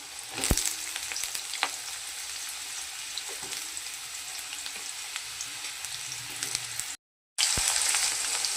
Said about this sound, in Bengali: আলুগুলো ভাজা হয়ে গেলে টমেটোটা দেবো।